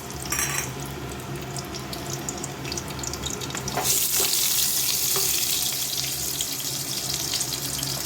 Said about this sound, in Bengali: এবার আমি সব ভেজিটেবলসগুলোকে ভেজে নেব।